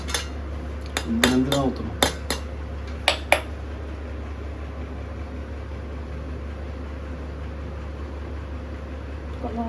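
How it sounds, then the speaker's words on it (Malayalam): Metal pot lids clatter and clink as they are picked up and set down in a kitchen, a quick run of sharp bright knocks in the first few seconds before a low steady hum carries on alone. "എന്ത് പാത്രം മൂടിയൊക്കെ എടുത്തിടുവാ"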